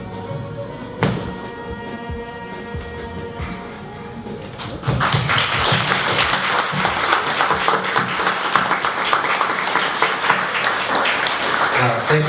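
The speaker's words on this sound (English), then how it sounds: "One more round of applause for Katherine and for the students" A song with sustained tones ends at a panel discussion event, and loud, dense audience applause then breaks out and carries on steadily to the end.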